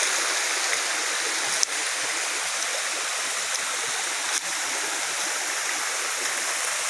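Steady rushing water of a small waterfall in Matalom, Leyte, Philippines, a continuous broadband roar with no breaks, close by and fairly loud.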